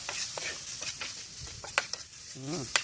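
Food being stir-fried in a pan for a spicy Thai stir-fry, with soft sizzling and scattered clicks and scrapes of the utensil against the pan, plus a brief voice near the end.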